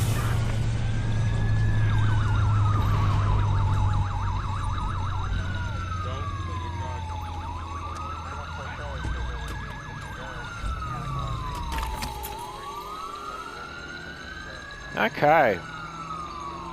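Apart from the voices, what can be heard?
ambulance siren in Watch Dogs video game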